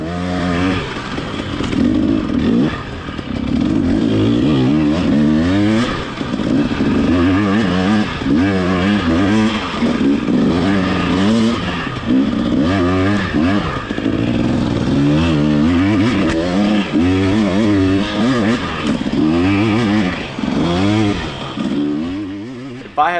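Dirt bike engine revving and straining close by on a ride through Caprock Canyon, loud and continuous for the whole stretch with shifting pitch as the throttle rises and falls, plus a brief voice near the start.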